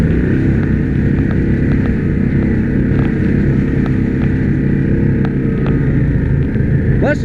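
An ATV grinds along a trail with four-wheel drive engaged, its engine a steady low rumble with heavy wind buffeting the microphone and occasional faint clicks.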